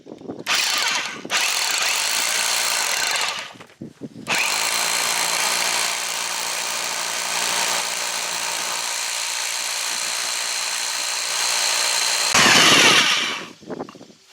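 A power drill bores a hole into stone about two to three inches from the edge, running in long loud continuous whirring bursts with brief stops between, close by and with no talk.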